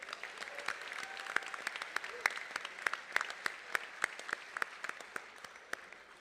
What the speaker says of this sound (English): I want to hear some applause